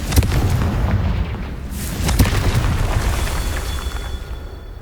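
Confringo fire spell explosions in the game Hogwarts Legacy, a series of deep booming blasts and bursts with a rumbling roar between them, loud and close, no voices.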